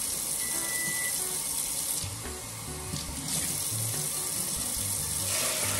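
Two cups of water pour steadily from a tap into a metal pot for kimchi tofu stew, a continuous splashing rush with a brief dip in the middle.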